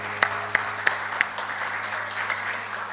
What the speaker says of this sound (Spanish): Vamos a darle un aplauso a los jóvenes.